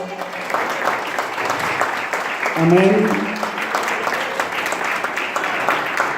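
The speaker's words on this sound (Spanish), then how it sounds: "¿Le puede dar un aplauso al Señor?" A church congregation claps together in a steady round of applause that swells briefly and then continues, with voices calling out amid the clapping.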